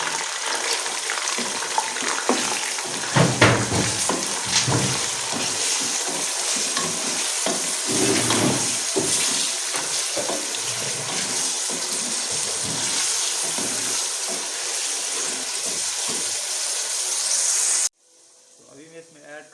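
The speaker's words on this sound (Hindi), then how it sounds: "यहाँ पर मैं गोश्त को इसमें शामिल कर रहा हूँ और गोश्त को इसमें हमने भूनने के अच्छे से इसका रंग तब्दील हो जाए।" Mutton sizzles and fries loudly in a pan while being browned for a mutton and peas curry, a dense continuous hiss with stirring scrapes, close up, cutting off abruptly near the end.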